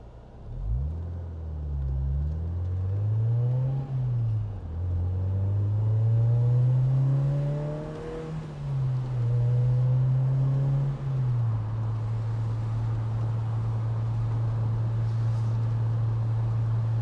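A 1.8-litre VVC MGF sports car pulling away and driving on a sunny summer day, its engine rumbling as it rises and falls through gear changes, then settling into a steady cruising drone, close and continuous with no talking.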